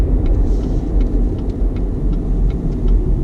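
A 2019 GMC Canyon All Terrain truck rolls over bumps, a close, continuous low rumble of engine and road noise with faint rattles and knocks from the suspension.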